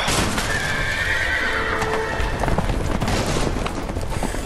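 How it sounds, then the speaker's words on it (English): Horses neigh loudly over a dense, continuous rumble of galloping hooves, close and chaotic throughout. "Oh, hell, the horses are escaping, honey."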